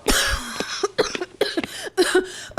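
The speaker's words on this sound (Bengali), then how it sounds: "কাশিটা কিছুতেই কমছে না।" A queen suffering from a persistent cough coughs repeatedly in harsh, uneven bursts, several close and loud fits separated by brief pauses.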